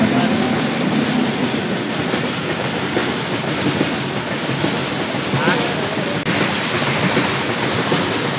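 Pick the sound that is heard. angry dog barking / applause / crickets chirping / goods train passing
goods train passing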